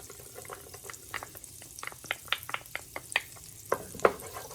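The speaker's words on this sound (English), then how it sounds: "The butter is melting. I'm gonna go ahead and put my garlic in." Garlic sautés in melted butter in a pan, a soft, steady sizzle broken by a series of light scraping stirs and clicks, quiet and close with no voices.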